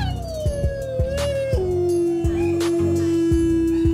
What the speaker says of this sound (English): Let's go for dogs howling.